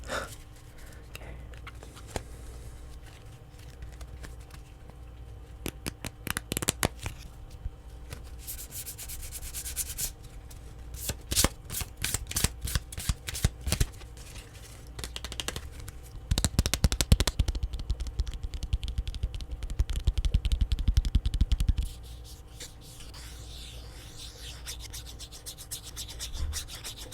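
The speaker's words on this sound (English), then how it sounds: "I'm gonna regather these cards here and then do a nice big shuffle." A deck of playing cards being shuffled and riffled, with bursts of rapid flapping clicks alternating with softer rubbing and sliding, close and crisp in a quiet room.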